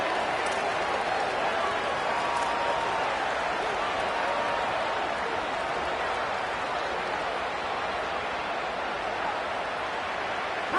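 A packed college football stadium roars for Texas Tech on a third down, a broad, steady wash of crowd noise holding at constant loudness throughout with no clear breaks.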